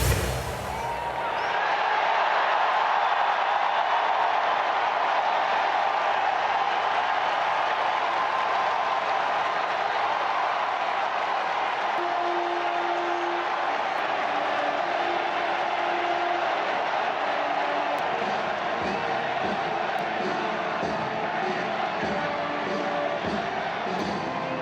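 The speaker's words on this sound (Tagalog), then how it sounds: "The crowd at St. Peter's Basilica erupted in cheers on Thursday as white smoke billowed from the chimney of the Sistine Chapel." A large crowd in St. Peter's Square at the Vatican cheers as white smoke rises from the Sistine Chapel chimney for the election of a new pope, a steady broad roar of voices and applause lasting throughout, with a few faint tonal calls over it.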